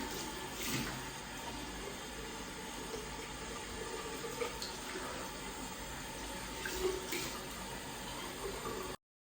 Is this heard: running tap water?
yes